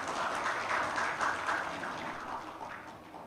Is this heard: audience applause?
yes